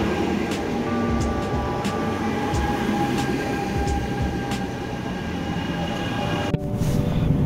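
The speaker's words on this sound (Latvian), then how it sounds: "Nu kā esmu vilcienā" A passenger train runs steadily, heard from inside the carriage on a journey toward Oslo: a constant low rumble with faint rhythmic clicks of wheels on rail and a brief sharp jolt near the end.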